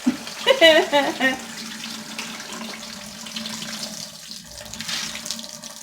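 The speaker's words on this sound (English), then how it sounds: "So now, I'm going to drain this water off." Rinse water poured off dry beans being cleaned for pressure canning, a near running splash and trickle into a sink, strongest at the start, then a lighter steady flow.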